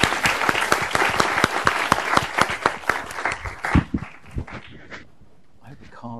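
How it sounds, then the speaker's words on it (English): An audience at an international commercial and finance law conference session applauds the panel: dense, sustained clapping from a hall full of people, loud at first, then thinning out into a few scattered claps before fading. "you might give the team up here a round of applause for all their hard work"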